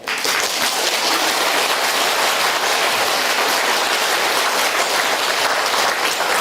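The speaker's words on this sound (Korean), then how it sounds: "여러분들 박수 치니까 이상하네." Lecture audience at Nazareth village applauding loudly, with dense, sustained clapping from a large crowd filling the whole stretch with no break.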